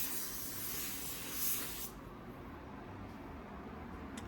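A paint spray gun lays the first coverage coat on a car fender, a loud continuous close hiss that eases slightly partway through and then carries on steadily.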